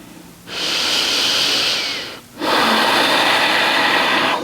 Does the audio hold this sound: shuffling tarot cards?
no